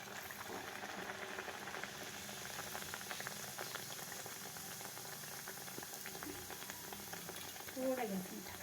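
Hot oil bubbling and crackling steadily in a pan as food fries, a dense continuous sizzle heard close up with a brief louder burst near the end.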